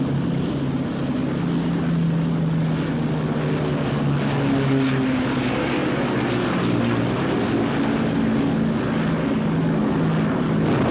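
A propeller aircraft engine drones steadily and loudly throughout, a low sustained hum with slowly shifting pitch and no voices over it.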